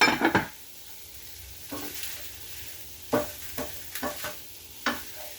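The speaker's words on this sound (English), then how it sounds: "So I just kind of want to fry this Spam up, brown it pretty good" Spam browning in a pan gives a low frying hiss, broken by several sharp scrapes and clinks of stirring, a dense cluster at the start and scattered strokes later, close and with no talking.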